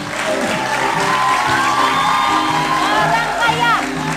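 A studio audience on an Indonesian talk show applauds and cheers for a guest, Gading Martin, a full, continuous wash of clapping with whoops and shouts mixed in and a voice speaking over it.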